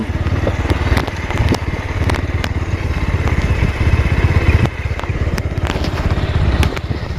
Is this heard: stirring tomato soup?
no